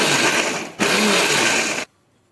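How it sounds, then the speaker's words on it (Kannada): A kitchen mixer grinder running as it powders dried flatbread pieces, a loud whirring burst that drops briefly, surges again for about a second, then cuts off abruptly to near silence. "ಇವನ್ನ ಸ್ವಲ್ಪ ಹಾಕಿ ಒಂದು ಉಲ್ಟಾ ಸುತ್ತು ಮಿಕ್ಸಿ ಒಳಗೆ ಮಿಕ್ಸ್ ಮಾಡ್ಕೋಬೇಕು."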